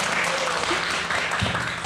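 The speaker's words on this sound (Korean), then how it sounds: "네, 박수." A room full of people at a parent education class clapping steadily, a dense continuous applause with a few louder claps near the end.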